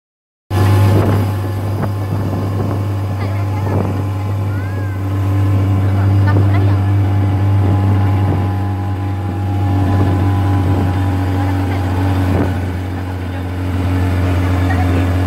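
Boat engine idling steadily at a jetty before a mangrove cruise, a loud constant low drone running throughout with wind buffeting the microphone and people talking faintly nearby.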